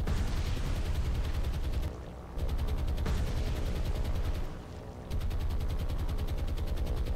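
Anti-aircraft guns firing in the naval game War on the Sea, a dense, rapid, continuous barrage of loud bursts with two brief lulls.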